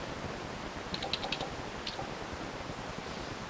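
Brief soft tapping of keys on a computer keyboard while typing a message, a short cluster of light clicks near the middle over a steady hiss, fairly faint.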